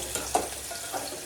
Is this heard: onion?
yes